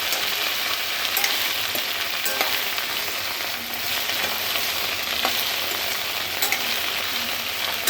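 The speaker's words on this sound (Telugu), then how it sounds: "నూనె బాగా వేడెక్కిందండి. తర్వాత బెండకాయ ముక్కలు, పెద్ద ముక్కలు పోస్తున్నాము." Okra pieces fry in hot oil in a pan, a steady close sizzle crackling throughout with occasional sharper pops, and no voices.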